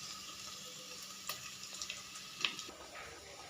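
Grated carrot with cumin frying on low flame in a pan gives off a faint, steady sizzle, broken by a few soft crackles and pops.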